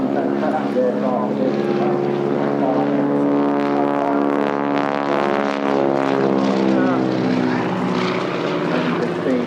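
A propeller aircraft drones steadily at an airshow with a strong, sustained engine tone that swells slightly as it passes, while a commentator talks over it.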